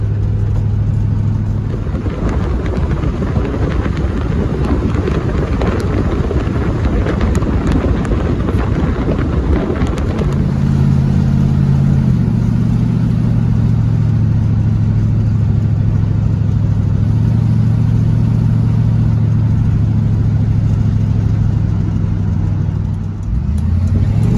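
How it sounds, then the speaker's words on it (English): A 1960s car accelerates hard, its engine note climbing loud and close through a rough blast, then settling into a steadier drone as it shifts up and cruises. "the best acceleration the 1960s has to offer"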